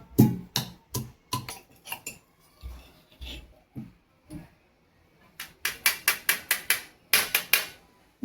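Soaked cashews with garlic pounded in a mortar and pestle for a Marathi masoor curry spice mix. Sharp, hard thuds land in a steady rhythm, with a few pauses and softer knocks between the runs of blows.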